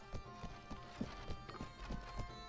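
Horse hooves in Mount and Blade Warband clip-clop in a quick, steady rhythm close by, with a short whinny mixed in among the beats.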